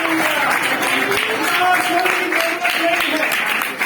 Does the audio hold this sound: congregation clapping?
yes